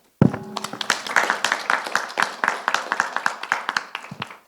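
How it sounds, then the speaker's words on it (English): A conference audience applauds to close the day's session, a burst of many hands clapping that starts abruptly, stays fairly even and fades out over a few seconds. "can we give all ourselves a round of applause to close the day?"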